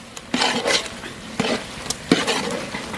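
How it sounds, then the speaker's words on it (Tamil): A spoon scrapes and stirs tomato, onion, coriander and mint in a pan for egg gravy, giving several brisk scraping strokes with sharp knocks against the metal over a faint sizzle. "அதை மல்லி புதினா சேர்த்தாச்சு நல்லா கிண்டி கலந்து விட்டுக்கலாம்"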